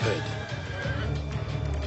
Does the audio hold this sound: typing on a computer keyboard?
no